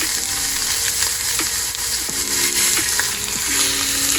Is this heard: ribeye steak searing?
yes